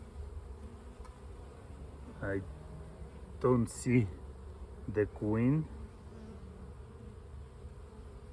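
Honey bees buzz in a steady hum around an opened hive during a spring inspection, close and continuous, while a person talks over it at intervals.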